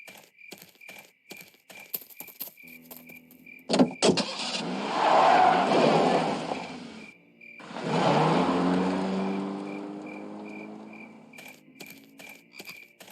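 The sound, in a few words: car driving, from the video game Full Throttle Remastered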